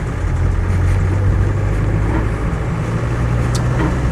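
A Land Rover 90 2.5TD hardtop diesel with 139,000 miles idles steadily, a loud, even low engine hum that holds constant from start to finish.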